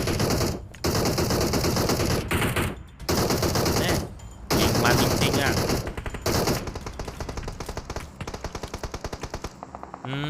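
Loud, sustained automatic gunfire in the battle royale game PUBG Mobile, long rapid bursts with brief gaps, ending in quicker, lighter staccato shots.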